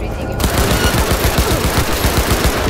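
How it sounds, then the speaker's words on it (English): Gunfire in Cyberpunk 2077 rattles out as a rapid automatic burst, a loud close string of evenly spaced shots over dense game noise. "Heard shot."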